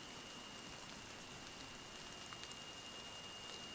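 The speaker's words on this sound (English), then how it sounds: "I told you it was fixing to start raining." Steady rain falling outdoors, a faint, even hiss with scattered light drop patters throughout, no speech and no other sounds.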